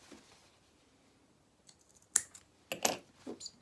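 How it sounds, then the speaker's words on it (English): Scissors snipping the loose thread ends off sewn pyjama bottoms for a Luna Lapin rabbit doll: a pair of sharp, close cuts with a few lighter clicks in between, after a quiet start. "we're then just going to snip off these ends here"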